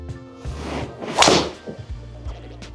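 A PING G440 golf driver strikes a ball with one sharp, loud crack midway, set among soft outdoor rustle and a few light thumps, with no voices.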